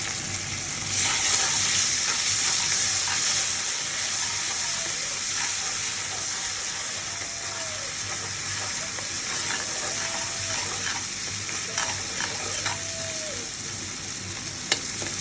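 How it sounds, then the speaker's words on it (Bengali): Ginger, garlic and cumin paste with chili powder fries in hot oil, a constant loud sizzle and hiss with occasional stirring clinks and scrapes, close and uninterrupted, no talking. "এই যে তেলে মশলাটা ভাজা হয়ে গেল"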